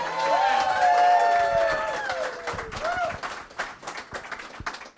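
A crowd greets members of a band with clapping and a rising vocal cheer or whoop that swells early, then thins into scattered claps.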